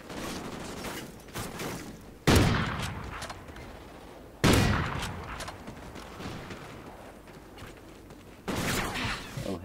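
Sniper gunshots in Call of Duty: Ghosts, three sharp loud cracks spaced a couple of seconds apart, each trailing into a decaying rumble over quieter gameplay noise.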